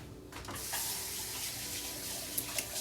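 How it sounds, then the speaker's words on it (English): A kitchen faucet running steadily while hands are washed, close and continuous hissing water with a couple of small splashes near the end. "let me wash my hands real quick."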